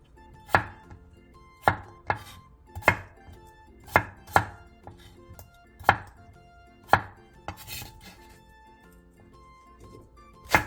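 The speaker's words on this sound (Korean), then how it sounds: "양파 1개와 감자 2개를 먹기 좋은 크기로 큼직하게 잘라주세요." A knife chops an onion and potatoes into large chunks on a cutting board, about a dozen sharp, close thuds at an uneven, unhurried pace, with quiet gaps between strokes and no talking.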